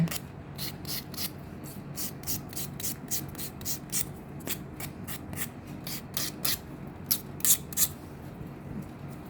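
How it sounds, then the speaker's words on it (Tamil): Edges of acrylic nail extensions are worked with a hand buffer, producing quick, close, scratchy back-and-forth strokes in an uneven rhythm that grows sharper toward the end, with no talking. "அதை வந்து நம்ம இப்படி பஃபர் பண்ணிட்டோம்னா அதுக்கேற்ற சைஸ் நம்மளுக்கு கரெக்டாக வந்துடும்"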